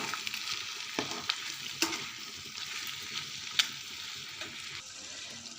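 Gongura prawn curry sizzles quietly in a pan while salt is stirred in, with a continuous soft frying hiss and occasional spoon taps and scrapes against the metal.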